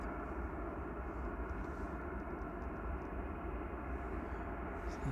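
An ASL cargo aircraft taxiing at Manchester Airport, a steady, dense engine roar heard from a distance without letup, with no talking over it.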